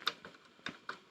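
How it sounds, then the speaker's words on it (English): Head mechanism of a National NV-250 VHS VCR clicking as it adjusts slightly during teardown, three or four faint sharp ticks spaced unevenly over a quiet background. "it makes a little clicking noise as it adjusts very slightly"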